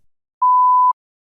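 A single steady electronic beep, about half a second long, clean and loud against silence.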